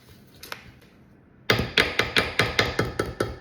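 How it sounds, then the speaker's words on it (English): Whisk beating apple custard crumble muffin batter in a bowl: a short tap, then a fast, even run of close, sharp clinks and scrapes, about four per second. "I'm going to mix that with my whisk."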